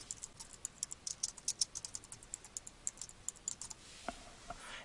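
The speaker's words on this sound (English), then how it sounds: "I'll type in my link caption," Someone types a link caption on a computer keyboard: a steady run of crisp, close key clicks in an irregular rhythm that eases into softer, sparser taps near the end.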